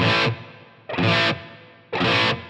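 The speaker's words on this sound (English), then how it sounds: "if I have no pre-delay, the reverb tail is basically going to start immediately upon me hitting that note" Distorted electric guitar through a Helix, ToneX, Kemper or Quad Cortex with reverb set to no pre-delay: three loud struck chords, each followed at once by a smooth decaying reverb tail.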